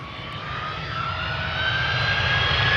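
A sixteen-year-old Delta Air Lines Airbus A330-300 departs Amsterdam Schiphol for Atlanta, a close, loud jet engine roar with a rising whine that builds steadily over a few seconds.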